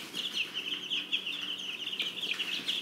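A brood of about two dozen young chicks, a week or so older than when last seen, peeps and clucks continuously in a busy overlapping chorus, close and moderately loud with no talking.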